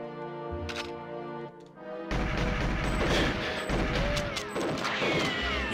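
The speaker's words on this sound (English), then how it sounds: "I try to shoot these two guys on the left here so they don't blast me" Gunfire in the GoldenEye 007 video game, a dense run of loud shots and impacts that breaks out suddenly partway through, after quieter game music and effects.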